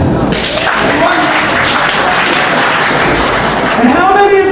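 Steady crowd applause at a UWA Elite wrestling event, a dense, loud wash of clapping filling the whole stretch with a slight swell near the end.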